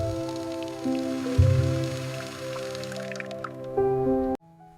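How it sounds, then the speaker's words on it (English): Running water from a tap as hands are washed, with soft splashing and dripping over a steady hum, ending abruptly when the flow stops. "I wash my hands and let the busy day disappear."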